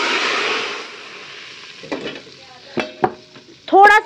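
Tadka, spices tempered in hot oil, sizzles in a pan with a short burst of loud frying hiss that fades within a second, followed by faint clinks and a voice at the end.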